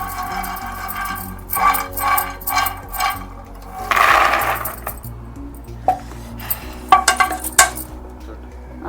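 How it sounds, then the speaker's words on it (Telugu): Fried makhana (fox nuts) tipped from a metal pan into a bowl, giving a run of scraping and clinking bursts with a louder rattling pour near the middle and scattered clinks toward the end. "ఇలా ఇలా వేయించుకొని ఇది ఒక బౌల్లో తీసేస్తాం"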